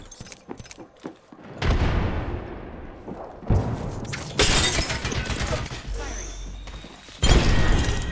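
A frag grenade in a battle royale video game goes off as a heavy booming blast with crackling debris. Quick taps and clicks come first, then further loud bursts of gunfire and explosions follow, all close and dense.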